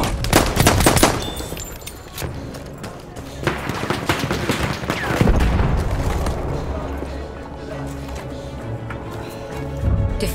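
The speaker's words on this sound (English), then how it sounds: "The enemies are being halted by our artillery barrage." An artillery barrage pounds a Battlefield 1 battlefield, loud booms and rapid gunfire bursting early, then a rolling rumble of distant impacts under scattered voices.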